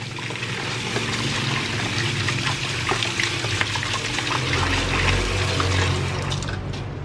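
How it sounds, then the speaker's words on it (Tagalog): Water runs continuously from a leaky household faucet at a steady, moderately loud rate, with no talk over it. "itong faucet namin. Kaya ganyan, may konting tulo-tulo."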